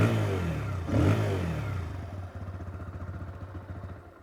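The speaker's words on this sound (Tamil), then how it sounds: "இப்போ வண்டி வந்து நம்ம ஆக்சிலேட் பண்ணும்போது நல்லா ஸ்மூத்தாக, என்ஜின் வந்து சூப்பர் கிறிஸ்பாக அப்படி ஸ்மூத்தாக வந்து ஆக்சிலரேட் ஆகுது" A TVS Apache 160 2V motorcycle engine revs up loudly and close, swelling to a peak before settling into a steady, pulsing engine throb with no talk over it.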